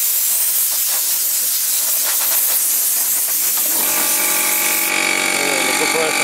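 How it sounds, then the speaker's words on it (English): Air from a small compressor blasts in a loud, continuous hiss as dust is blown off models, then the compressor motor kicks in partway through with a steady humming drone beneath the hiss, with a voice talking over it. "The compressor kicks in."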